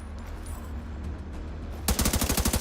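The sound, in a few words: machine gun fire in the video game The Division 2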